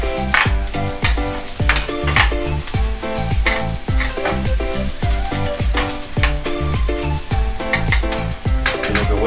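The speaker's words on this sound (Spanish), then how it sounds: "Eso vamos revolviendo para que no se nos queme" Sofrito frying in a pan while being stirred, a loud, steady sizzle with repeated rhythmic scraping strokes of a utensil against the pan, close and continuous.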